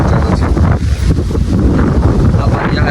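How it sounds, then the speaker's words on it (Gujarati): Strong wind blows into a microphone outdoors at a farm, producing a loud, constant buffeting rumble with gusty swells that swamps everything else. "આમ જો પવન આવી ગયા વાડી બહુ કીધી ફૂલ પવન આવે"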